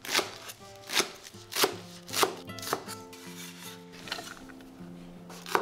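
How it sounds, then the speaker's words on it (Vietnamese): A knife chops green onions on a cutting board with sharp, steady strikes about once a second, close by, over soft background music. "Sắc nhỏ hành lá để làm dầu hành mình ăn kèm ha."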